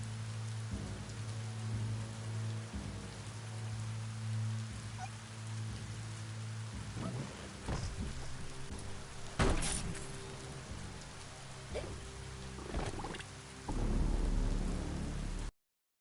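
Steady rain patters in Biomutant while thunder cracks and rumbles several times, one loud close clap midway and a heavy roll near the end, with no talking.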